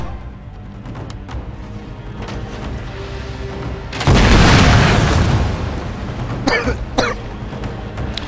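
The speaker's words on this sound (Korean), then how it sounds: "집중포로 끝내겠습니다. 사격!" A concentrated volley of cannon fire in Total War: Shogun 2, one loud booming burst of massed guns midway, followed by a few sharper pops against a steady battle background, with no talk.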